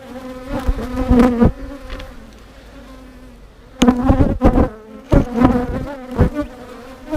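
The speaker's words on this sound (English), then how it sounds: "There's some bees in here." Bees buzz loudly and close by in a weak colony coming out of winter, the hum rising and falling in several bursts separated by quieter gaps.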